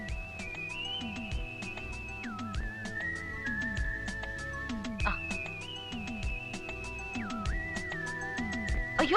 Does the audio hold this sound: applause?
no